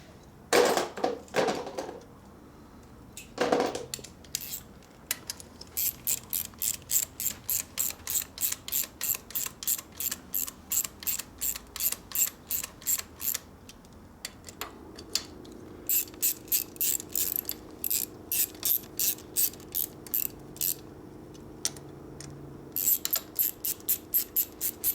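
Hand ratchet wrenches clatter in long rapid runs of crisp clicks, close up, while working on the top end of a Harley-Davidson Evolution stroker engine during an oil leak repair, pausing briefly between sets of strokes.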